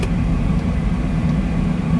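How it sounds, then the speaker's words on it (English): Trucks drive past on a road with a low, steady engine rumble, heavy and close, holding constant over a brief moment with no voices. "The trucks are coming over here again."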